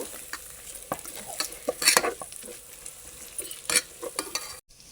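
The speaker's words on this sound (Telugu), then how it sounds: "అల్లం వెల్లిపాయ పేస్ట్ అడుగుతా ఉంటుందండి, మనం వేయించుకుంటా తీసుకోవాలి" Ginger-garlic paste fries in a pan for veg biryani, a steady low sizzle broken by repeated scraping strokes of a spoon stirring close by, with no talking.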